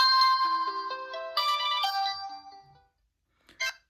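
A Microwear MActive Pro smartwatch speaker plays its find-device ringtone: a bright descending then rising run of tinny electronic notes, loud and close, fading out before a short final chirp.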